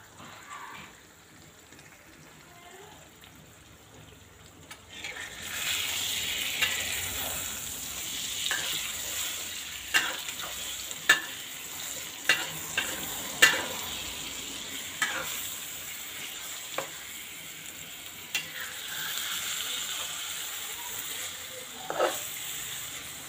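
Prahok frying in a pan gives a steady soft sizzle, with intermittent sharp pops and crackles as the food is stirred, fairly quiet and close.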